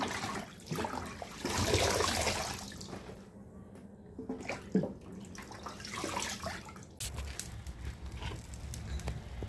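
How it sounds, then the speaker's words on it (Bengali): Tap water runs and splashes into a sink basin being washed in a home kitchen, a steady close rushing with a few louder splashes and clatters, continuous throughout. "আর এবার হচ্ছে বেসিনটা ভালো করে ধুয়ে নেব"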